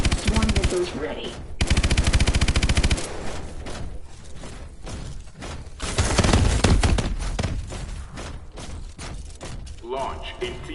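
Heavy, rapid bursts from the main gun in Call of Duty: Advanced Warfare, loud sustained machine-gun fire mixed with thuds and explosions, alongside voices speaking over the combat.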